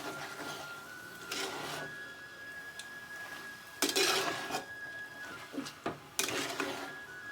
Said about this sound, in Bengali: এখন আমি শাকটা ভালো করে মিশাই নেব মশলার লাগে।